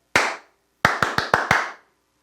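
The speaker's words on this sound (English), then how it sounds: "I'm going to clap it one more time." Hands clap a short rhythm for a music dictation exercise: one single clap, a pause, then a quick run of five claps, crisp and close in a quiet room.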